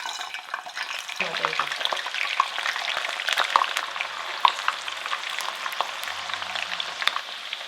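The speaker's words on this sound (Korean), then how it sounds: "튀겨볼게요." Steady, dense crackling and sizzling of frozen shrimp potato rolls deep frying in hot oil, continuous and fairly close, with occasional faint clinks.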